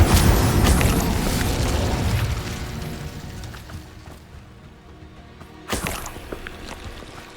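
Spell blasts and magical explosions from the Hogwarts Legacy video game, a dense run of loud booming bursts that gradually fades, then one more sharp blast near the end.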